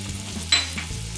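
Shallots hitting steak pan juices for a Steak Diane sauce, a short soft sizzle with one sharper burst partway through over a low steady hum.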